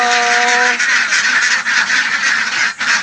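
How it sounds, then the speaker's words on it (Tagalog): Ducks being let out of their pen make a loud, continuous chorus of overlapping quacks and honking calls, close and raucous throughout. "ngayon palalabasin na natin yung mga ating mga itik napakaingay na"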